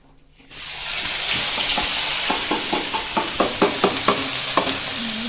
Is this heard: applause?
no